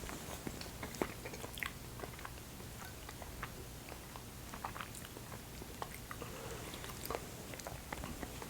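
Faint crunching and biting as chocolate is chewed during a bourbon and sour mash whiskey tasting: soft, irregular clicks and crunches close to the mic over a quiet background, with no talking.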